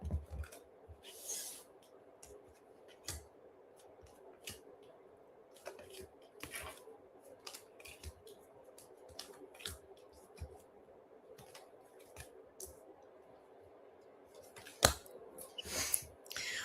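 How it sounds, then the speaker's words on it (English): Tarot cards laid down one by one on a surface during a quiet reading, giving soft, irregular taps, slides and clicks that are faint and close. "And now I'm going to start to lay down some cards."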